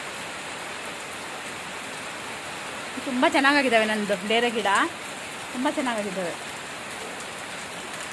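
Steady heavy monsoon rain pours down in a village, a dense even hiss that runs the whole time, while someone speaks briefly in the middle over it.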